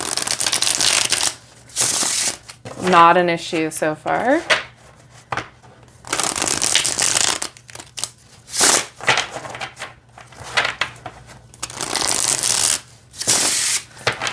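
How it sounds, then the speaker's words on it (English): Dungeons and Dragons tarot cards being shuffled, with repeated crisp riffling bursts and brief pauses between them; a voice talks for a few seconds partway through. "Oh, it feels really nice to shuffle."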